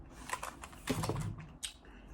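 A knife cuts through food with quiet, irregular tapping clicks against a board, close but faint, with no voices.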